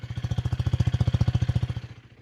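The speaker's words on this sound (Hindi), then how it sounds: "ये बाइक का एग्जॉस्ट साउंड कैसा है। ये आइडल पे है पहले तो।" A KTM Duke 250 Gen 3 motorcycle idles, its exhaust giving a steady, rapid low thumping pulse heard up close and alone, fading slightly at the end.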